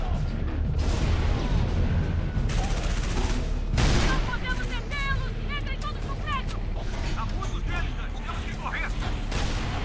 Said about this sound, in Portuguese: Ouço disparos.